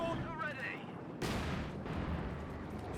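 Mortar fire and explosions in a Company of Heroes 2 2v2 multiplayer match: a sharp broadband blast hits about a third of the way in, followed by sustained loud rumbling battle noise, with earlier tonal whistling and commentary-like voice underneath.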